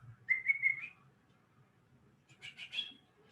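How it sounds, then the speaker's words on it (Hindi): A person whistles a song tune in two short melodic phrases separated by a pause, close and fairly soft. "इनने यहाँ से वही गाना गुनगुना दिया सीटी बजा के"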